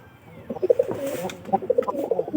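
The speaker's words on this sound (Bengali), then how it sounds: "এটা কিন্তু আমাদের সাদা পায়রা" A white pigeon coos nearby in a series of soft, throaty, pulsing calls over a faint background.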